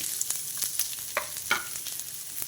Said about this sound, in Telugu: ఆయిల్లో కొంచెం మగ్గాలి ఉల్లిపాయ